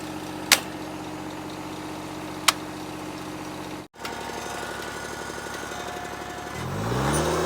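A small John Deere 'Johnny Popper' tractor engine chugs steadily close by, with a couple of sharp clicks and a brief dropout, then its pitch climbs as the engine revs up toward the end.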